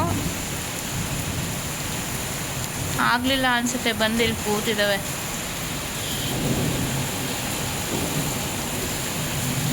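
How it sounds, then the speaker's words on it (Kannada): Sudden heavy rain with strong wind pours steadily with a dull rumble underneath while a person speaks briefly over it. "ಸಡನ್ ತುಂಬ ಜೋರಾಗಿ ಮಳೆ ಬಂದಿದೆ"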